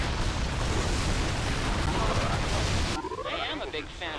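A blast in the real-time strategy game Forged Battalion: a loud, dense rumbling roar for about three seconds, then it cuts to quieter, fading debris-like crackle.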